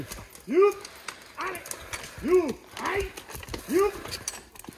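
Horses' hooves clip-clopping on a farm in Trentino, a regular series of thuds under a man's calls urging the animals along.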